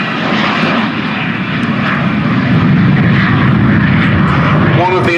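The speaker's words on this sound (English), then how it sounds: "Of the MiG-15 on the roll, a two-seat variant, the MiG-15 UTI." A two-seat MiG-15 UTI jet fighter, a Polish license-built SB Lim 2, rolls for takeoff at Duxford, a loud steady engine roar throughout. A commentator's voice seems to run beneath it.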